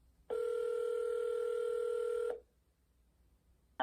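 A single telephone ring tone on an outgoing call, one steady two-second electronic tone, then near silence before a brief second sound at the end.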